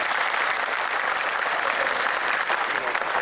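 Loud, sustained applause from a large audience at a film trailer launch event fills the whole stretch, steady and unbroken with no voices.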